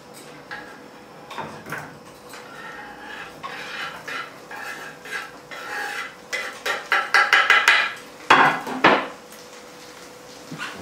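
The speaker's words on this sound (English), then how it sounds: "What I'm going to do now is add this onion." Chopped onion goes into a pot of chicken soup with a run of clattering, scraping knocks and taps of utensils against the pot, irregular and fairly close, with no talk.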